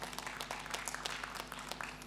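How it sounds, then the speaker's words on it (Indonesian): A congregation at a Sunday church service claps softly, scattered hand claps sounding faint and a little distant over a low steady hum. "beri tepuk tangan kepada Tuhan"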